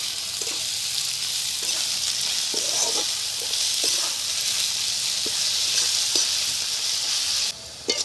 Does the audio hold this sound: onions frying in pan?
yes